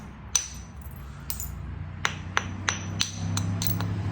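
Flint-knapping on a Georgia jasper blade, a handful of sharp, close tapping strikes in an uneven rhythm against a faint room hum, with light scraping between them.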